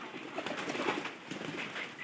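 Pigeons in a rainy-season coop softly coo, a low warbling murmur of overlapping calls, faint and steady throughout.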